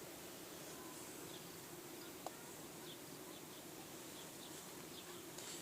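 Honeybees hum steadily around a hive on a hot day, a soft continuous drone at moderate distance with no talk, a few faint chirps above it.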